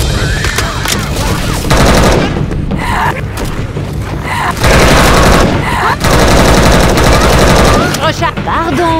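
Rifle and automatic gunfire in a zombie-combat mod of Left 4 Dead 2, loud and dense bursts with booming impacts throughout, broken by brief lulls, with voices speaking French briefly amid the shooting.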